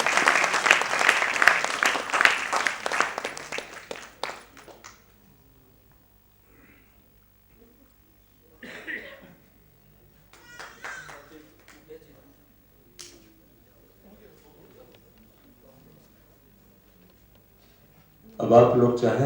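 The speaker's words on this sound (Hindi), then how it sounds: "अब ताली बजा दीजिए बढ़िया से सब लोग।" Audience at a Hindi stage play breaks into loud, dense clapping for several seconds, then it fades to scattered claps, brief murmurs and talk, with another burst of clapping at the very end.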